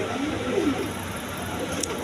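German Beauty pigeons of Andalusian colour coo softly in a close, low, murmuring rumble, with a faint background hiss and a brief sharp click near the end.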